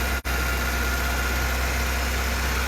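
A car engine idles steadily after a repair for an engine noise fault, giving an even, continuous hum and rumble up close with a brief dropout near the start and no voices.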